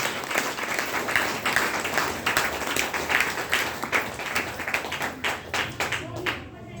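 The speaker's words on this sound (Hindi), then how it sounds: "एक जोरदार ताली अपने लिए मार सकते हैं" Loud, sustained applause from a large audience at a health training program in Bhagwanpur, dense clapping throughout with a faint voice underneath.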